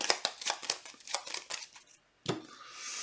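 Playing cards for a tabletop war game are shuffled in a quick run of crisp riffling snaps, a brief pause, then one sharp shuffle trailing into a soft hiss, close and alone.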